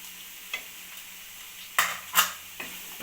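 Vermicelli uppittu stirred in a pan, a few scraping spoon strokes and brief clanks against the metal over a faint background, with no talking.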